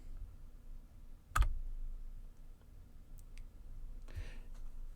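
A single sharp keystroke on a computer keyboard while entering a command in CAD software, followed by a faint soft click and a quiet room hiss.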